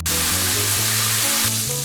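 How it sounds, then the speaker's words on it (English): Bacon sizzles and fries steadily in a pan, a loud, continuous crackling hiss with low hum beneath, no voices. "While the bacon is frying, I'm going to prepare stock."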